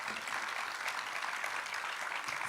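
A steady, fairly faint wash of audience clapping fills a Commerce Lab workshop feedback session, continuous and even throughout with no voices over it.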